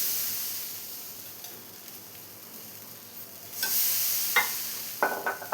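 Ragi appam batter hits a hot appam pan, and a soft sizzle rises and swells partway through, with a few brief clinks and scrapes near the end and no voices.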